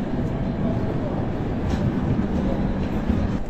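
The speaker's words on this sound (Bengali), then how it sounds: "আমাদের ট্রেন কিন্তু আমাদের ছেড়ে নিজের গন্তব্য মঙ্গলধামের উদ্দেশ্যে বেরিয়ে যাচ্ছে" A passenger train pulls out of Ambala Cantonment station with a continuous low rumble and rolling noise, steady and fairly close throughout.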